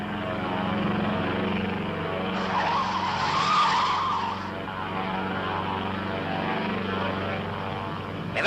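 Propeller airplane taking off, a sustained droning engine roar with a surge of louder, brighter noise midway, steady and fairly close throughout.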